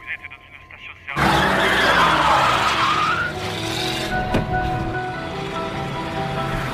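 Car tires screech in a long skid during a movie chase, a loud sudden burst of engine and squealing rubber that fades into rumbling road noise.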